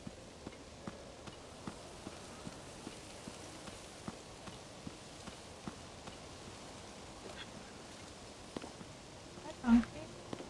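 A donkey in Zelda: Tears of the Kingdom clip-clops along with steady, soft hoofbeats in an even rhythm under near-constant talking, ending in a short, louder thump.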